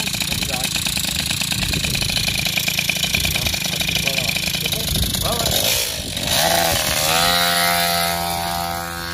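A small two-stroke engine with a freshly tuned 19 mm P2R carburetor runs at a buzzing, uneven idle up close, then revs and settles into a steadier pitch, with people talking over it.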